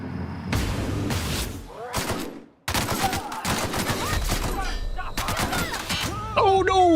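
Gunfire in The Outer Worlds: loud, dense volleys of shots and impacts fill most of the seven seconds, broken by one brief near-silent gap, with a voice talking over parts of it.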